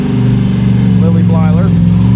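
An Ultra4 off-road race car at the Rausch Creek Rumble, its engine roaring loud and close with a steady low growl and rising revs as it passes, while a person talks over it.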